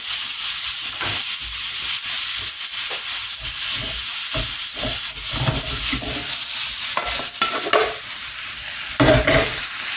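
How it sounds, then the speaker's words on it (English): Pork meatballs fry in a pan with a constant close sizzle and hiss while a spatula scrapes and turns them in repeated short bursts. "you can use a smaller rubber spatula like this to turn them over"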